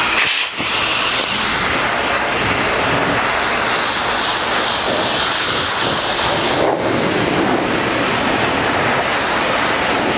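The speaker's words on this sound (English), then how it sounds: "So let's take the blower and see what it looks like." Air blower drying a car freshly coated with Turtle Wax Jet Black spray wax: a loud, steady roaring rush of air runs without a break from start to finish, with only slight shifts in tone.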